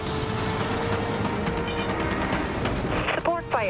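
Artillery support fire in the game Dreadnought, a dense, steady rumble of distant shelling and gunfire with a brief burst near the end.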